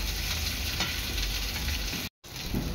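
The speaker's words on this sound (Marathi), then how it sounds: "अशा प्रकारे सर्व तुकड्या मी तळून घेणार आहे" Pieces of surmai (kingfish) frying on a tava, a steady loud sizzle throughout with a brief dropout near the end before the hiss resumes.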